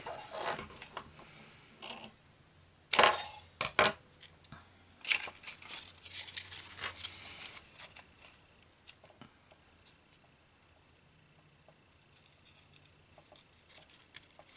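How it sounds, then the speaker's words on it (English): Scissors snip through twine while wrapping Halloween lollipop treats, a few sharp close cuts and rustling early on, then quieter handling sounds fading into faint room tone. "So, cut some twine real quick."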